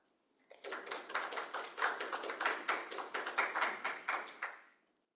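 A small audience gives a burst of dense, fast clapping to welcome a speaker at an ocean research talk on offshore wind, starting abruptly, staying steady for about four seconds and then tapering off, with no talking.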